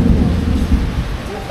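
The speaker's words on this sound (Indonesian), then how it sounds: "Petir." Heavy rainstorm with thunder, a dense low rumble over steady loud rain that fills the whole stretch without pause.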